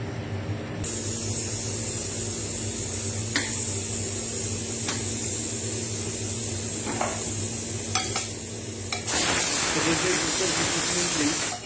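A pressure cooker sits on a stove with a steady low hum and faint clicks, then near the end a loud broad rush of hissing steam bursts out and holds.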